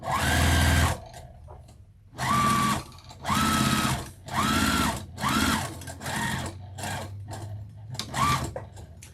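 A sewing machine top-stitches across the top of an apron pocket in about seven short, close bursts of rapid whirring stitching, separated by brief pauses.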